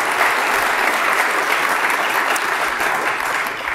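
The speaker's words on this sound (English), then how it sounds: "if we could just have a round of applause for the people who organized this" A conference audience applauds the organizers, a dense, steady wash of clapping from many hands in a room, holding at an even level throughout.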